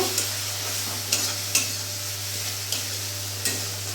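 Cumin and Kashmiri chili powder being stirred in a frying pan for a fig curry, with a steady low sizzle and a few sharp spatula scrapes spaced across the stretch.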